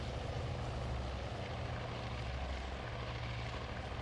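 Torpedo bombers take off from the carrier Lexington in the Task Force Admiral video game, their propeller engines a loud, steady, close drone that holds throughout with no talk.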